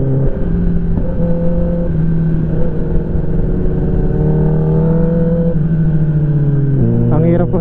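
A Kawasaki ZX10R motorcycle on a racetrack drones at steady engine pitch as the clutch is released, the tone shifting through gears and rising sharply at the end, loud and close, with a voice talking over it.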